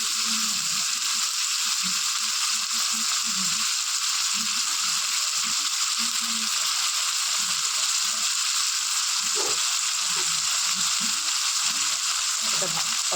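Spices sautéing and frying in a pan for a curry make a steady, close hiss of sizzling oil, with soft scraping and stirring sounds scattered underneath throughout.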